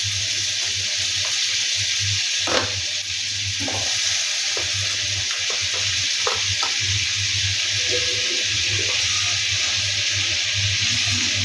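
Butter melting and sizzling in a hot pan for chicken soup makes a continuous bright hiss, joined by a low steady hum and a few light clinks.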